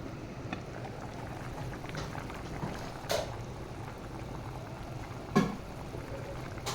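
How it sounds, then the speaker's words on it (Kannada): A pot of tomato rasam bubbles at a steady boil, giving a faint, continuous simmering hiss broken by two brief sharper pops or clinks. "ನೋಡಿ, ಈಗ ಚೆನ್ನಾಗಿ ಕುದಿ ಬರ್ತಾ ಇದೆ"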